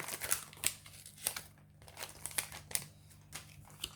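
Pokémon Necrozma GX box packaging being opened, with close crinkling and tearing of plastic wrap and cardboard in irregular sharp bursts over a quiet steady hum.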